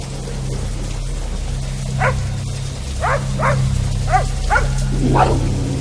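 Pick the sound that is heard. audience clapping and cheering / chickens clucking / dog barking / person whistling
dog barking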